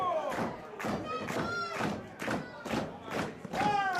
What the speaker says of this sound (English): I think the crowd is chanting for both of these men here.